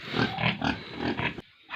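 Pigs on a farm grunt and squeal in a rapid series of close, loud calls that cut off abruptly near the end.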